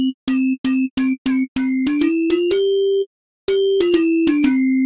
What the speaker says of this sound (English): So we're going to jump over to layer A where our bell sound is and adjust the coarse tuning.